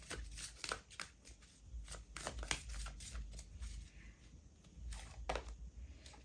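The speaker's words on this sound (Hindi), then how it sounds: "थोड़ा अच्छे से शफल कर लेते हैं." Tarot cards are shuffled gently by hand, giving soft papery riffles and taps in short bursts, quiet and close with a low background hum.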